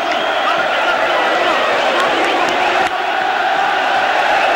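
Corinthians supporters in a football stadium crowd roar continuously behind the goal, a dense, loud wall of chanting and cheering that holds steady throughout, with a broadcast voice mixed in.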